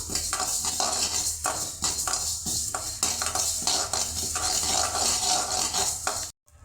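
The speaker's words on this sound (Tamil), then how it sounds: "கடுகு பார்த்திங்கன்னா நல்லா பொரியுது" Mustard seeds roasting dry in a pan for thoodhuvalai rasam powder crackle and pop in a dense, loud, continuous sizzle with rattling stirring, stopping abruptly at the end.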